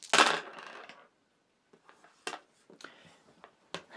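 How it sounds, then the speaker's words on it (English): Dice for a board game clatter onto a table, with a loud first tumble followed by several lighter scattered clicks and taps as they settle, alone without speech. "I then take my dice and roll again."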